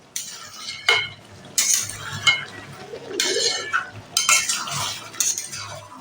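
A spatula scrapes and clinks against a pan as chicken and capsicum are stirred, in repeated strokes at close range over a low background sizzle.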